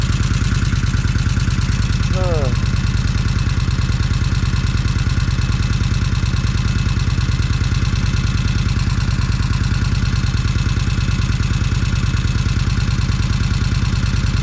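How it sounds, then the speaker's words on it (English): A Kawasaki Vulcan 1600 motorcycle engine idles steadily up close, a loud, even low throb with mechanical clatter, running without pause for the whole stretch. "I think I best just let her idle, because I don't want to take a chance on messing anything up inside that motor"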